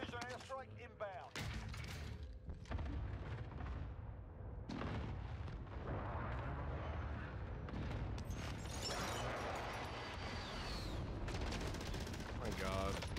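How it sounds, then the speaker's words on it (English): A friendly precision airstrike in Warzone on Rebirth Island hits with heavy rumbling explosions and bursts of gunfire that roll on for several seconds. Players' voices are heard between the blasts. "Be advised, friendly precision airstrike inbound"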